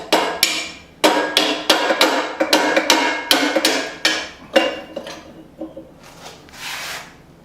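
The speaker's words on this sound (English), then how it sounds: "I can also strike it with a hammer" A hammer strikes a forged bowie knife to seat it onto its tang, about a dozen sharp metallic blows at a steady rhythm, close and loud, tapering into softer rubbing sounds.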